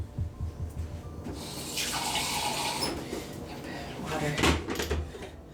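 Water is poured into an oven pan in a home-brew Game Boy Advance cooking game, a steady splashing pour lasting several seconds, mixed with clunks and a voice talking over it.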